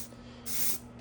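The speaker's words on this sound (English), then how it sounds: "this paint is not really fun to spray when you're trying to be careful with it" A spray can blasts silver paint in one steady burst of hiss lasting about a third of a second, loud and close, framed by quieter room tone before and after.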